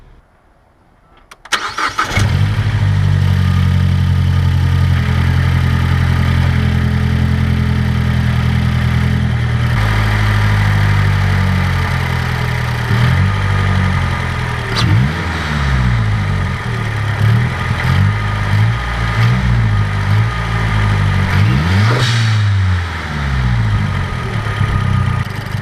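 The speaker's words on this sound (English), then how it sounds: "I'm going to start her up and go for a test drive" A Mazdaspeed3 starting up after an oil restriction bolt install, catching with a burst and then running at a loud, steady idle close by, followed by several sharp revs that climb and drop back, with no voices.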